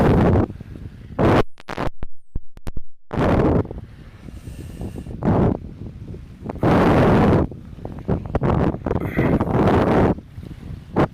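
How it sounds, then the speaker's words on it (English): Strong wind blowing at a beach, buffeting the microphone in loud, rough gusts that come and go throughout, with brief quieter gaps between bursts. "Oh, that wind."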